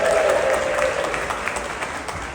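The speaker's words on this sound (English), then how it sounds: "Give yourselves a round of applause." Morning audience at a Six Flags Over Texas announcement event in the renovated Southern Palace clapping, a steady wash of applause from a roomful of people that holds and slowly thins, with a brief voice at the start.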